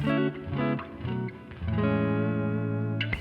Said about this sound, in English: Just a really classic clean tone.